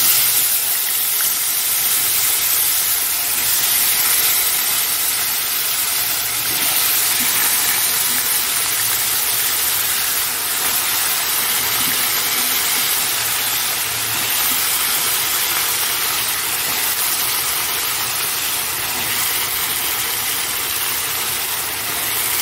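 Potatoes and eggplant fry in oil tempered with black cumin seeds, giving a steady, even sizzling hiss that runs unbroken from start to finish with no voices.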